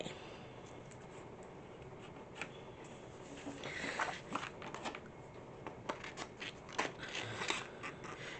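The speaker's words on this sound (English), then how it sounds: "And I'm going to cut these out." Scissors snip through scrapbooking cardstock in a quiet room, a run of short, crisp cuts and paper rustles that grows busier toward the end, with no talking.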